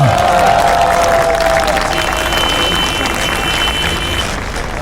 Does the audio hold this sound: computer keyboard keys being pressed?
no